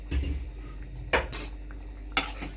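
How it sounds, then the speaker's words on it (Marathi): A spoon stirs Malvani-style cashew curry (kaju bhaji) in a pot, giving a few soft scrapes and three sharp metallic clinks against the pot rim, close up, with no talking. "भाजी चांगली ढवळायची ही अशी"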